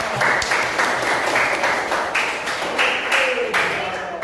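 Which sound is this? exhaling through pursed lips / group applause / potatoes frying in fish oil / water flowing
group applause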